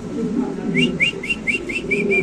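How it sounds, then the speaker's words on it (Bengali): White Mundian pigeons in a loft give a run of close, rhythmic whistling coos, about eight short repeated notes over a low murmur of other birds. "এখানে আছে একজন মুন্ডিয়ান কবুতর, হোয়াইট মুন্ডিয়ান, মাশাআল্লাহ একদম দুধের মতো সাদা"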